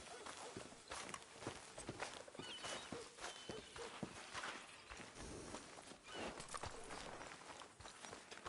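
Horse hooves clip-clopping in Red Dead Redemption, a steady run of hoofbeats on the ground at moderate distance, continuing evenly with faint ambient sound behind.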